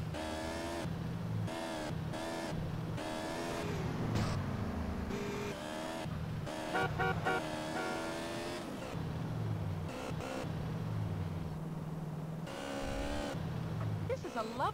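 A car driving in GTA San Andreas, a steady engine drone running throughout beneath ongoing conversation between two voices.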